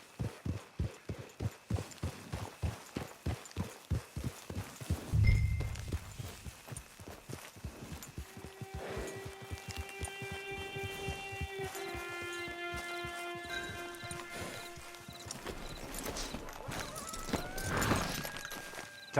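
Horse hooves clip-clop at a steady walking rhythm in the Red Dead Redemption 2 video game, clear at first, then fading under game music tones and ambient sound.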